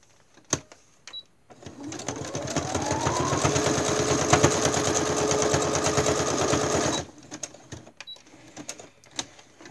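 A sewing machine stitching a junk journal embellishment runs steadily for about five seconds at close range, bracketed by a few sharp clicks and handling taps before and after.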